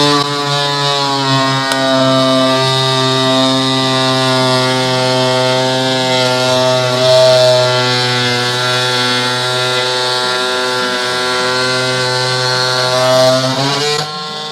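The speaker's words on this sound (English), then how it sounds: "So let's fire it up and give this a try." RIDGID 18V cordless oscillating multi-tool cutting down through a wooden corner, a loud, steady buzzing whine held for about fourteen seconds before winding down.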